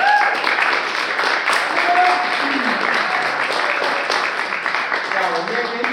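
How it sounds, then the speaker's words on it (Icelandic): An audience claps for performers at a drama programme presentation, a loud, dense, continuous wash of applause with voices and faint tonal sounds mixed in underneath. "Og bara gefa þeim gott klapp"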